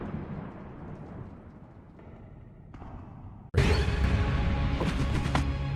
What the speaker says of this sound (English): That was such a dramatic lightning sound